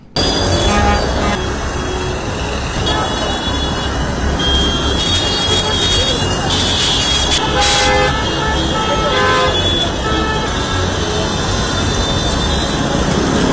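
Heavy street traffic jammed across Chennai, with a dense wall of engine rumble and repeated car and vehicle horns tooting and honking throughout, loud and close, with scattered voices in the crowd.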